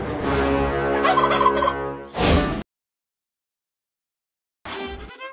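A turkey gobbles loudly and close in a long rattling call, then a short second burst, and after a silent gap a third gobble.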